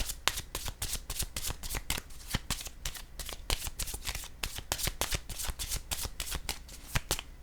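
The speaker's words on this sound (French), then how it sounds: "Je vais mêler le jeu." Pink oracle cards being shuffled, a rapid run of crisp riffling flicks and slaps that repeats steadily throughout, close and clear with no talking.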